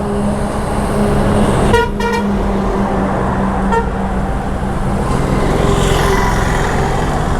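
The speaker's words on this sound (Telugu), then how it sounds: "అమ్మో వెనకాల లారీ వస్తుందో" A lorry comes up from behind on a rough road, with a steady roar of vehicle noise and two bursts of loud horn honking, one in a quick double toot and another brief blast soon after.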